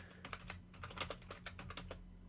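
Rapid clatter of keys on a computer keyboard, close and fairly loud, irregular bursts of keystrokes with no voices over a steady low hum.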